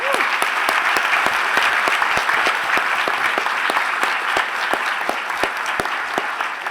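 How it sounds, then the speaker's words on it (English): Conference audience applauding students, a dense round of many hands clapping with sharp individual claps standing out, steady and fairly close for several seconds. "would you join me in just a huge round of applause to the students?"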